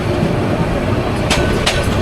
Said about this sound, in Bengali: পাঁচটা বত্রিশ মিনিটে আমরা ময়মনসিংহ রেলওয়ে স্টেশনে প্রবেশ করলাম